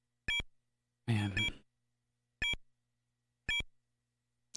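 Short electronic countdown beeps in the Buster Douglas Knock-Out Boxing game on the Sega Master System, sounding at an even pace about once a second, loud and clean against silence, with one brief voice sound between them.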